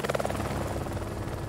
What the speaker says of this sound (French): un bruit d'hélicoptère monte de la vallée